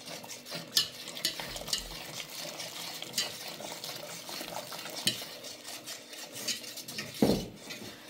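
Spoon stirring mushroom soup in a pot as hot water goes in, a steady scraping, rubbing rasp with small clinks, louder swirls near the start and a sharper knock toward the end.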